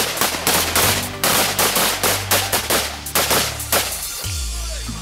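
Two shooters working as a pair in a stacked formation fire rapid gunshots in quick overlapping bursts, loud and close, with strings of shots for about four seconds before a final ringing tail.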